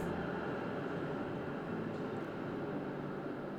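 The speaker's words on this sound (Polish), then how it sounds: "muszę mieć otwarte okno, przez to słychać tramwaja" A tram rolls past outside an open window in warm weather, a steady low rumble and rushing drone holding at even loudness throughout, fairly near and with no talk over it.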